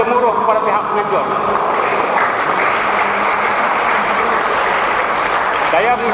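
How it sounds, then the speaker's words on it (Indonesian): An audience at a Malay silat heritage performance opening ceremony in Penang applauding the organisers, a loud sustained clatter of many hands with a voice carrying over it through much of the stretch. "Beri tepukan gemuruh kepada pihak penganjur."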